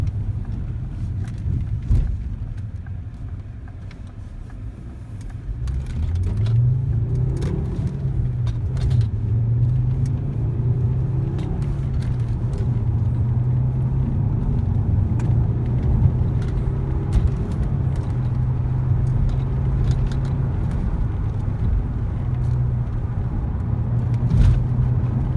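A Ford Mondeo Titanium X Sport's 2.5 litre five-cylinder Duratec engine drones steadily while driving on an open road, a low, continuous rumble with a rising engine note as it accelerates, mixed with road and wind noise.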